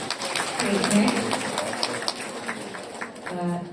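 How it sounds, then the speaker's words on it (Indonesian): Applause from an audience at a talk show, scattered clapping under and around voices speaking, fading then swelling again near the end. "Tepuk tangan lagi Bapak"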